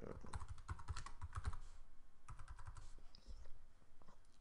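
Typing on a computer keyboard while writing an answer in an online assessment: rapid, uneven bursts of soft key clicks, close by, with a brief pause midway before the tapping resumes.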